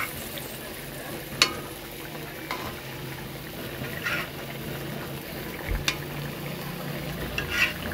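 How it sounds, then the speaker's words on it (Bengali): Pieces of fried rohu fish set into a sizzling, spiced gravy in a pan, a soft steady fry with light stirring and occasional brief clinks, fairly quiet. "এখন আমি এক এক করে এখানে মাছগুলো দিয়ে দিব"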